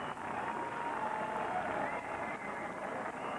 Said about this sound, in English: now we're getting some real cheering in the background